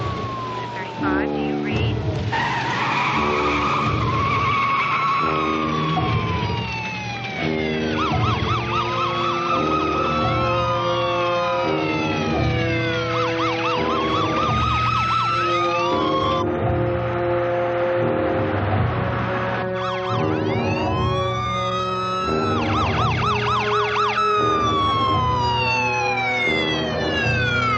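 A fire truck siren wails in continuous rising and falling sweeps, loud and close throughout, with other emergency sirens blending in and a voice speaking over a radio.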